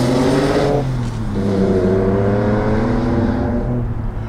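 A collector car's engine revs close by with a deep, throaty tone, its pitch climbing and falling through a couple of rises over a few seconds, with no talk.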